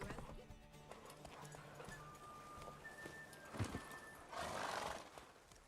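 Roach, a horse in The Witcher 3, neighs with rising whinnies near the middle and end, over a soft clip-clop of hooves and low ambient noise.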